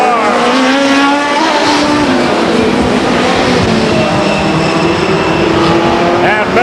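Race cars roar around the oval at Stockton 99 Speedway, engines rising and falling as they pass with whining pitch sweeps, loud and continuous, while an announcer talks over the racing.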